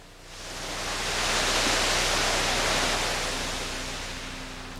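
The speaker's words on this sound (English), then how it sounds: "Varying the distance of the pressure washer nozzle to the textured surface is a technique used" A pressure washer hisses steadily as it sprays textured concrete, a broad, loud rush that swells and then eases slightly as the nozzle's distance to the surface changes.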